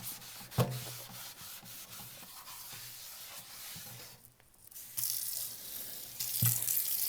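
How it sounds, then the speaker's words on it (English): Rough scrubbing against the bottom of a non-stick pan, uneven strokes with faint watery splashes and a few sharp knocks, fairly close. "So we'll cover the whole bottom of the pan, scrub it real good."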